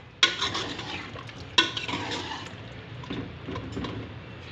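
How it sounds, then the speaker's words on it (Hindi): Tomato and yogurt being mixed into frying meat, two sharp utensil knocks against the pan followed by soft stirring and a low simmering sizzle, close by without speech. "टमाटर और दही डालने के बाद इसे अच्छे से मिक्स कर लीजिए।"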